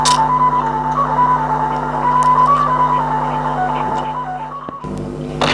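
A sawangan kite flute on a dragonfly-shaped kite hums a steady, wavering reedy tone over a constant low drone, loud and sustained, then cuts off abruptly near the end.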